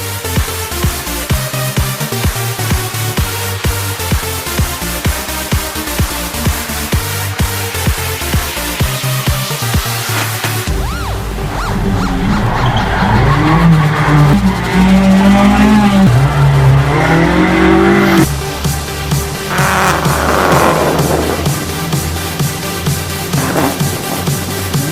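Rally cars drift flat out and sideways around the corners of the Bushy Park circuit in Barbados, with loud engine roar and screeching tires. Cars pass close by one after another and the revs surge and fall.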